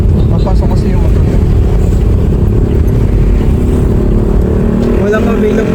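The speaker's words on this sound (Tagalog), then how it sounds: "Papasok kasi yung motor." A motorcycle engine rumbles loud and close as the bike pulls in, a steady low drone that lasts throughout, with voices mixed in around it.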